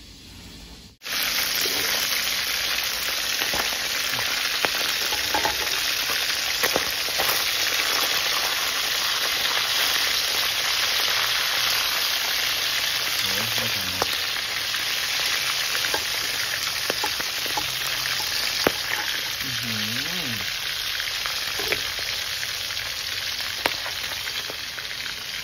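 Egg with green onion and herbs frying in hot oil gives a loud, steady, continuous sizzle that starts abruptly and holds close and even throughout, with occasional small pops.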